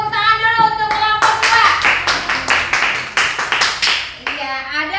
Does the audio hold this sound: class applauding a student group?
yes